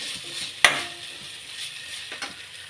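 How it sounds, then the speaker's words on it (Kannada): Onion frying lightly in a pan for a quick rice tempering, a soft steady sizzle with one sharp metallic clack of a utensil early on and a fainter scrape near the end. "ಈಗ ಲೈಟಾಗಿ ಈರುಳ್ಳಿ ಫ್ರೈ ಆಗಲಿ."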